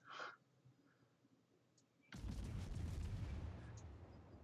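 Naval guns fire armour-piercing shells in World of Warships: one sudden heavy broadband blast erupts after a quiet stretch and rolls on as a loud, sustained rumble, preceded by a faint short burst.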